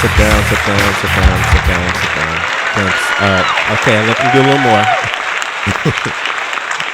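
Applause from an energetic live crowd at a radio podcast show, steady clapping that runs throughout and stays loud, with someone talking over it.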